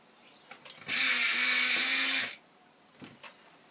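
A pale blue colouring pencil being sharpened: a single steady whirring grind lasting about a second and a half, close and alone, with faint taps just before and after.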